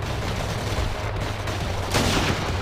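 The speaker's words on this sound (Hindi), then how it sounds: "कोस्ट गार्ड के ऊपर चार गैंगस्टर्स फायर कर रहे हैं" Gangsters fire on a coast guard in Pure Sniper, a dense, steady wash of gunfire that sounds like a continuous fusillade and swells briefly near the end, without speech.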